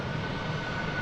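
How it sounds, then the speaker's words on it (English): An Airbus A321 jet taking off rumbles at a distance with a low, steady engine roar, faint and brief with no voices over it. "It's an Airbus A321 going to Los Angeles."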